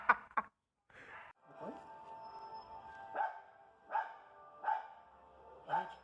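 A dog in the street barks over and over in a steady rhythm, about one bark every second, moderately close against a quiet background.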